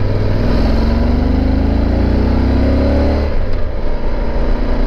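Motorcycle engine riding the Tail of the Dragon road, a loud close droning engine note rising in pitch as it accelerates, then dropping off sharply as the throttle is cut near the end, with steady wind rush.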